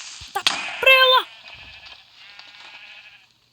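A sheep bleats loudly in a video game, one wavering cry following a couple of sharp hits, then fading into a soft lingering tail.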